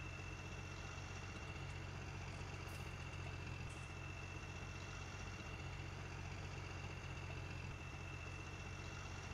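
A tractor engine idles in Farming Simulator 2019, a steady low rumble with a constant drone and faint higher whine, running unchanged throughout with no voices.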